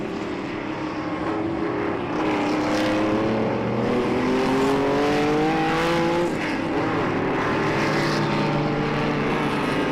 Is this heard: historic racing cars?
yes